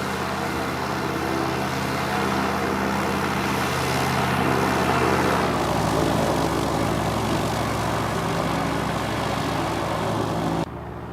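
A Piper Arrow III propeller plane in X-Plane 11 drones steadily during a flyby. The engine pitch shifts midway before the sound cuts off abruptly.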